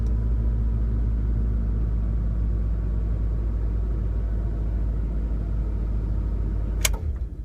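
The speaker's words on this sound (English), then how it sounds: "Let's see if she'll start again." A 1996 Honda Accord engine idles steadily after a cold start in cold weather, a loud continuous low rumble that holds throughout before a brief click and the engine noise cutting off near the end.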